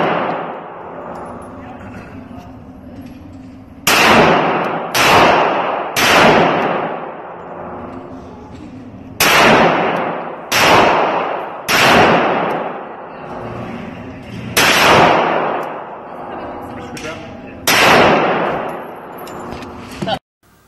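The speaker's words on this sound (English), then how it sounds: "I also was able to shoot 185 plus P Golden Saber through my Mark 23" Mark 23 pistol firing 185 grain +P Golden Saber rounds: about nine loud, booming shots in three groups of three, each with a long echoing tail, separated by quieter gaps.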